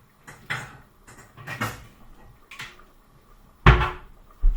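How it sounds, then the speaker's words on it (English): A cupboard in a home kitchen is opened and a blender is pulled out, making several close knocks, clatters and rubbing sounds that end in a louder bump, with no talking. "Let's get the blender out."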